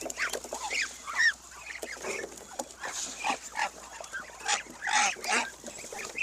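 A crowd of Chinese ducks on a duck farm, jostling to eat corn, quacks and squawks over one another in busy, overlapping calls, close by and fairly loud.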